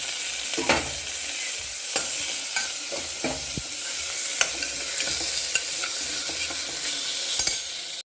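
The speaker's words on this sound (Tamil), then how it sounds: "தக்காளி போட்டு வதக்கலாம்" Tomatoes sautéing with onions in a pan, a steady hissing sizzle with scattered spatula scrapes and taps against the pan, close and unaccompanied by talk.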